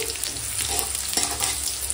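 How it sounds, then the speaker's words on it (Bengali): Dried chili, bay leaf, whole cumin and five-spice fry in hot oil with a steady, dense sizzle as they are stirred, close and constant throughout. "ফোড়নটা একটু সুন্দর করে ভেজে নিচ্ছি"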